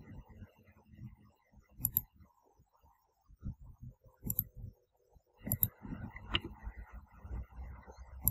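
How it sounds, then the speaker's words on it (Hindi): Computer mouse clicks while navigating a crypto exchange app, sparse sharp clicks in small clusters at close range, quiet and alone with no voice. "ऐसे मैं BTC पे क्लिक करता हूँ"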